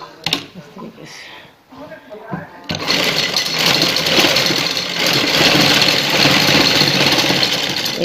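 A sewing machine stitches a strip around a round neckline, running loud and continuous after a few seconds of a person talking in Hindi over brief, faint mechanical noises.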